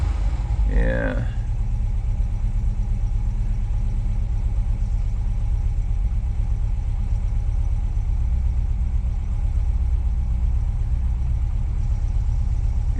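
A car engine idles after a cold start, a steady low rumble that runs evenly throughout, with a brief voice near the start and faint talk over the engine.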